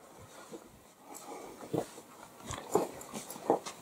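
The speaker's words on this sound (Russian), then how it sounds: "Привет, собаки." Dogs close by make soft huffs, snorts and brief whimpering sounds at irregular intervals, fairly faint, with light movement and breathing noises between them.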